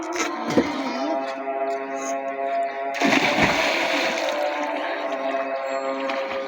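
Someone dunks and splashes in water while swimming: two sharp splashing bursts stand out against a continuous tonal hum, with muffled sloshing in between.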